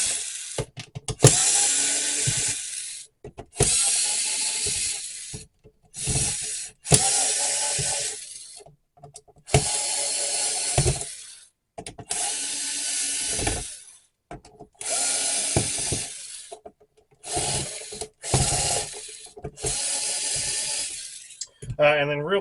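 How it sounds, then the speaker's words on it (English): A power screwdriver or drill removes screws from a PS2 controller in repeated loud whirring bursts of a couple of seconds each, separated by short pauses, close up with no talk. "it's just a regular Phillips head screwdriver. So then we're going to get all these out."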